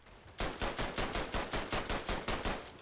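Sustained machine gun fire in the World War I shooter Verdun: a steady rapid burst of roughly a dozen sharp, evenly spaced shots, loud and close, with no talk.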